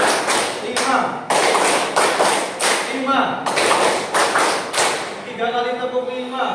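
Hands clap in a counted pattern, sharp bursts grouped in uneven rhythmic sets, with a voice speaking between and after the claps.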